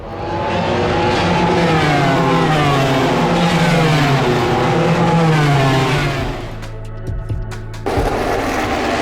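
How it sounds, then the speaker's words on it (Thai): MotoGP motorcycles lapping in a Q2 qualifying session, loud engines screaming and rising in pitch as they pass close, then a quieter stretch with brief sharp bursts before another bike roars in. "และก็มาถึงการขับขี่อันดูเดือดในรอบ Q2 นะครับเพื่อแย่งตำแหน่งพัโพซิชัน"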